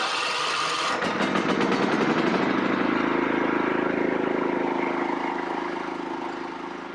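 A riding lawn mower engine cranks briefly, then catches and settles into a steady, loud idle close by after a fresh tune-up and oil filter change, running on alone without talk.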